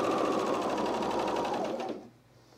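A serger runs steadily, sewing a 3/8 inch seam on a camisole, its rapid whirring stitch loud and close, then stops abruptly near the end, leaving quiet.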